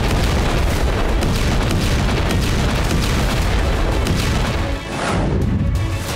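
K9 Vajra self-propelled artillery gun firing, heard as a continuous loud roar of heavy booms and blasts with no talk, briefly dipping near the end before rising again.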